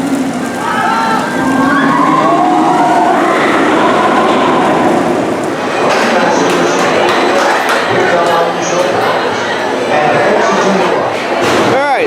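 The Kraken roller coaster train at SeaWorld Orlando runs around its course as a loud, rushing rumble that swells and roars past midway. Voices and crowd sounds from the park mix in around it.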